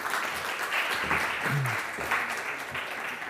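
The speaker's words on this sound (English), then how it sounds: "we should give him a big round of applause" An audience at a lecture claps steadily in a dense, continuous wash of applause lasting a few seconds.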